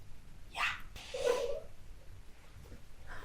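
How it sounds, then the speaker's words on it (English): A house cat gives two short meows close by in a quiet indoor room, the second one slightly longer, followed by soft silence. "This is my cat, Willa."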